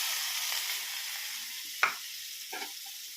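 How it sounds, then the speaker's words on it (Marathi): Spice paste (vaatan) with turmeric sizzling in hot oil in a pan for besan pitla, a steady faint hiss with a couple of brief stirring scrapes, no talking. "तर आपण आता ते वाटण यामध्ये थोडंसं टाकून घेऊया, लागेल तेवढं."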